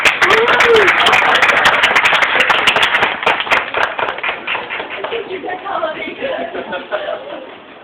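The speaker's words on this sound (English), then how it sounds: "Round of applause for Dan." A convention crowd at a stunt fighting panel gives scattered applause, a burst of claps and taps over the first few seconds that thins out beneath talking and chuckling.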